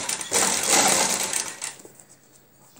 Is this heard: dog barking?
no